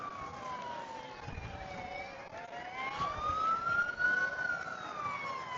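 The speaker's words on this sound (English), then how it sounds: "Usually when you hear sirens, that means the parade is rolling." Emergency vehicle sirens wail at the start of a Morgan City parade, rising and falling in pitch. They begin faint and distant and grow louder as they approach, with low rumbles of traffic underneath.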